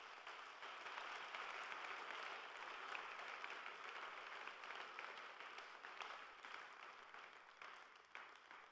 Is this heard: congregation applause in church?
yes